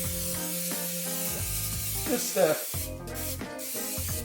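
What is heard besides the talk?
spraying cooking oil spray onto jelly roll pan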